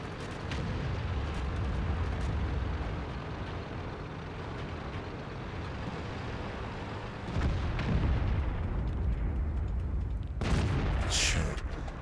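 Tank battle in World of Tanks, with an AMX CDC medium tank in play: rumbling low booms and blasts of cannon fire roll through a dense, continuous din, with a sharper crack near the end.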